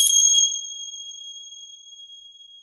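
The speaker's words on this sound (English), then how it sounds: "so I'll just ring them now so you know what they sound like" Meditation bells ring once with a bright metallic strike, then a clear, pure tone lingers and slowly fades over a couple of seconds in quiet surroundings.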